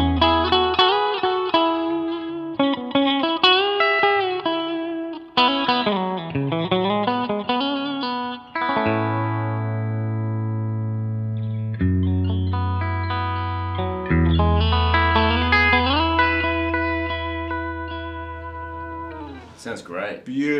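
Electric guitar through a Line 6 HX Stomp Princeton amp model with added effects, played alone with bright melodic runs, sustained low notes and chordal passages, clean tone with modulation and reverb.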